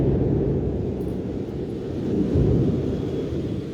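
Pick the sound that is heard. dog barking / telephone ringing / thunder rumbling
thunder rumbling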